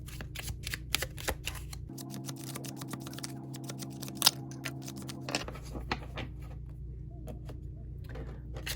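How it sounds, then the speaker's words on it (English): Soft, rapid riffling and tapping of tarot cards being shuffled close by, with a steady low hum underneath and a brief sharp click midway. "So let's do some shuffling and see what card we get today."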